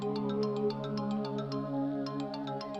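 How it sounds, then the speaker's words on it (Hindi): A mobile phone ringtone plays a bright, repeating electronic melody with steady pulsing chimes, loud and close, with no talking over it. "एहसान बेटा, फोन बज रहा है तुम्हारा।"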